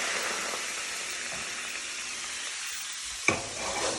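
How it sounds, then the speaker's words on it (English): Lemon juice and white wine hitting a hot pan for chicken piccata, a loud continuous sizzle and hiss with one sharp clink near the end, no voices. "Off the fire, I'm going to add the lemon juice and the white wine."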